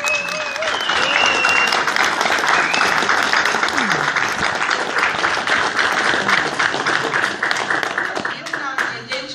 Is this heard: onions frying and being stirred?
no